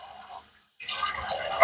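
Water splashes and runs as a freshly shaved face is rinsed off after a Balkan Blend soap lather and Aylsworth Kopparkant razor shave, a short quiet pause giving way to close, steady splashing.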